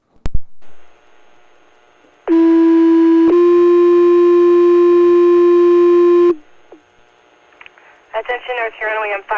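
A loud, steady two-tone fire department pager alert paging out the North Huron Wingham fire station sounds for about four seconds, holding one pitch and then stepping to a second, with quieter sounds before and talk after.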